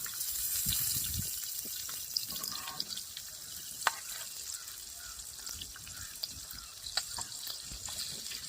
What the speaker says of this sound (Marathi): जिलेबी पलटी करून घेते आता. एक साईडने शिजली असं.